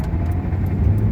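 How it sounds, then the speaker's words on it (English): A car accelerates hard under heavy throttle. The engine makes a loud, close, sustained roar that stays strong through the short burst, with no talking. "I can go heavy on the throttle like I just did"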